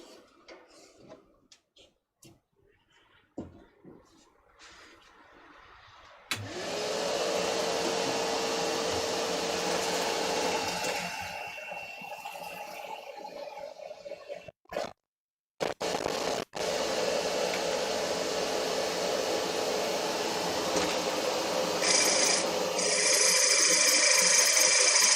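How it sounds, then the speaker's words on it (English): A steady, loud mechanical whirring runs continuously with a couple of brief pauses, like a power sander working wood close by, sanding a wood-turning piece. "I'll just do a quick bit of sanding."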